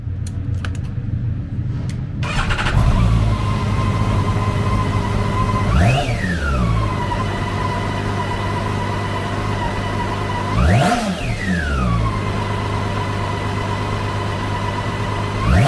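A 2012 BMW K1600GTL with a 1649cc inline six-cylinder engine runs steadily close by after a quiet start, with two sharp rev blips rising and falling several seconds apart over a constant idle.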